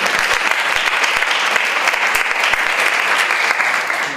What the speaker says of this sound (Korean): 우리 시스터에게다 박수 한번 쳐주세요.